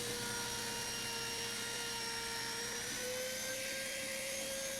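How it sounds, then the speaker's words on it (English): Ryobi router fitted with a 1/4 inch spiral cutter running through wood for a table top inlay, giving a loud, continuous high-pitched whine with a steady motor drone that shifts slightly in pitch partway through. "I run a 1/4 inch spiral cutter for this, so I eliminate any tear out."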